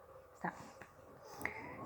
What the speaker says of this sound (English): I have a big dog pushing...